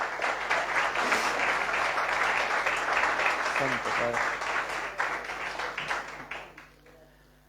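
Church congregation applauding during a sermon, a broad steady wash of clapping that fades out toward the end, with a voice speaking briefly over it.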